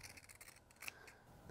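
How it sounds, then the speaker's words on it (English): Pinking shears snip around the edges of fabric for a crisscross apron, with soft, quick cuts heard up close and quiet. "If you have a pair of pinking shears, go ahead and pink around all the edges."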